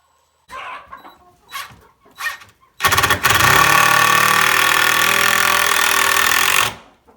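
A powered screwdriver drives a screw into a chicken coop roosting bar made from old fence rails, with a few short whirring bursts and then a long, loud continuous whine up close.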